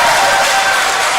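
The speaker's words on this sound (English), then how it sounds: "Clap for yourself." Students clapping at a university faculty lecture series in Nigeria, a dense, loud wash of applause filling the room evenly without breaks, with faint tonal voices briefly audible underneath.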